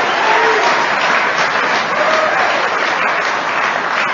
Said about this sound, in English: If you are new to Alcoholics Anonymous and you're wondering why they're applauding